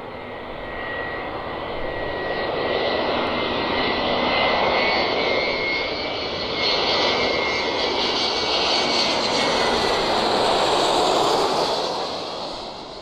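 A jet airliner roars steadily through its takeoff run at Malaga Airport, a loud, continuous engine rumble with a faint whine that swells and holds for several seconds, no voices over it.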